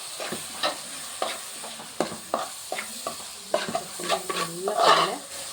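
Home-style crab curry masala with curry leaves and coriander powder is stirred in a hot pan. Close, repeated spoon scrapes and knocks sound over a light sizzle.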